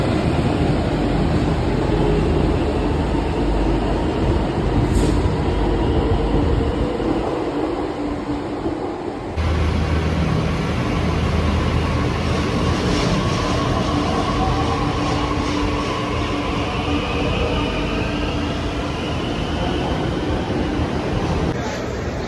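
A train rumbles through a metro station with a loud, continuous roar and rattle that lasts the whole time, its tone shifting slightly midway, with no clear talking.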